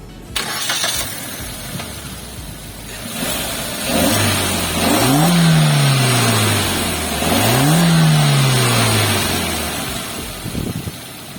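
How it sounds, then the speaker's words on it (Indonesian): Suzuki New Baleno 2022 with the K15B petrol engine cranks and fires up, then gives two rising revs that climb and fall back to idle, loud and close with no talking. "So, kita pengen denger suara mesinnya kan baru ya sekarang. K15B."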